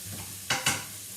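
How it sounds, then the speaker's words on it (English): Bacon, tasso and a steak fry in a pan with a low steady sizzle, broken by two quick sharp hissing bursts as food is stirred or flipped, close and fairly quiet. "We're flipping that steak over, getting it seared on the second side."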